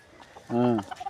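One short, loud call from a chicken or rooster rings out nearby over a quiet farmyard background.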